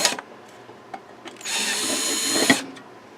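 A power drill bores a hole with a drill bit during repair of a Radio Shack regulated power supply, a steady whine for about a second after a few small taps and clicks.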